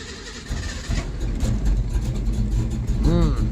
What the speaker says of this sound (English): Let's see if it'll start on the fast idle cam on its own